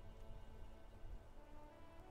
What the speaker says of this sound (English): looks like it started raining outside.